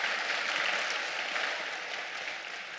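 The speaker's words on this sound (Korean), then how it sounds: "박수 한번 합시다" An audience at a prayer retreat applauds, producing a dense, steady wash of clapping that fades slightly toward the end.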